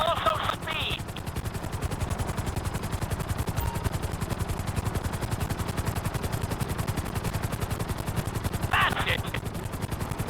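Helicopter flying during a flight-school course in the video game GTA 5, a loud, rapid, steady rotor chop that runs the whole time, with brief bursts of game sound near the start and end.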